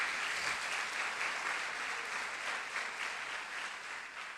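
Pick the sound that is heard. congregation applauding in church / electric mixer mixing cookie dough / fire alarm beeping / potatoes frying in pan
congregation applauding in church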